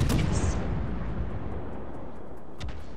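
A naval gun salvo booms in World of Warships, a deep rumbling blast at the start that rolls away and decays, with a second sharp report near the end.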